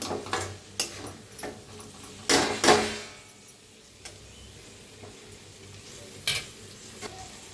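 Fresh coriander is stirred into a cluster bean curry cooking in a pan, with a spoon scraping and clinking against the metal in sharp taps over a soft steady sizzle.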